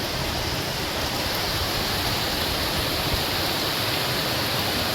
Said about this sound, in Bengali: কি বৃষ্টি, মানে কিছুতেই থামার নাম করছে না।